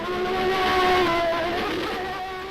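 A Peugeot 905 race car engine in a racing video game whines at high revs, loud and close, with a steady buzzing tone that swells and then slowly fades.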